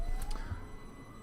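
A police siren in Train Simulator 2017 sounds near Finchley Road and Frognal in North London, a thin, slowly rising tone at low to moderate level over a constant low train rumble with a few soft clicks.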